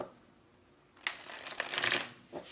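Tarot cards being shuffled by hand, a quiet start giving way to a close burst of riffling and ruffling, then a short final flutter; no talking.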